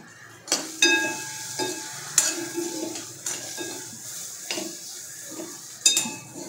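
A spoon scrapes and clatters in a pan while Maggi noodles are mixed with masala, giving a few sharp metallic knocks between softer stirring sounds without any talk.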